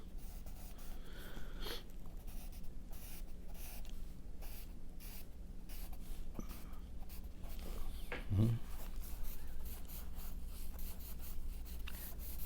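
Soft, steady scratchy rubbing of pencil on paper, continuous strokes at close range with a faint background hum, no talking.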